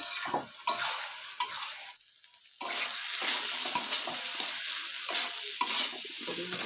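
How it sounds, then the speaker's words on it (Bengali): Fish and vegetable stems being stir-fried with spices in a pan, a steady sizzle with scraping stirs and clatters throughout, briefly dropping out for a moment before resuming. "ভালোভাবে মশলার সাথে সব কিছু আমি কষিয়ে নিলাম"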